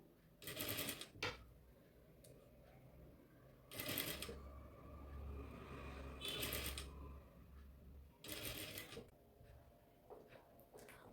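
A sewing machine stitches pleats on a frill pillow cover in bursts of rapid mechanical clatter, several separate runs with a low motor hum under them and short pauses between, fairly quiet and close.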